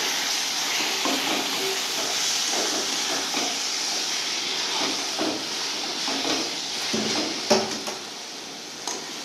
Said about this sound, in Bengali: এবার চিংড়ি মাছ আর ছোলাটা আমি মশলার সঙ্গে একসঙ্গে কষবো।